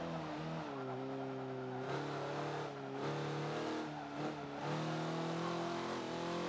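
A race car engine in Forza, driven on Laguna Seca, revs loud and close with rising tones that drop sharply at several gear shifts, about four or five changes across the run, with no talk.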